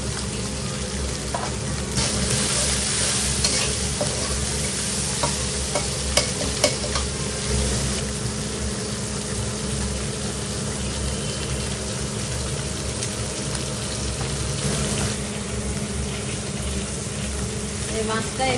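Koi fish sizzling and frying steadily in a pan with stirring, a continuous close hiss with scattered crackles throughout.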